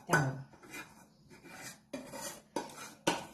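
A spoon scraping and stirring carrot barfi mixture thickened with cornflour in a pan, giving five or six distinct rasping strokes at an uneven rhythm, close and alone.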